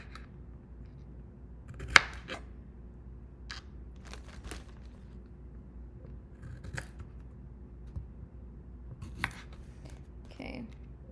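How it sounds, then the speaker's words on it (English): Knife cutting the ends off thinly sliced vegetables on a board, a handful of sharp crisp chops spread over quiet kitchen background, close and fairly soft. "Let me just cut all the ends off."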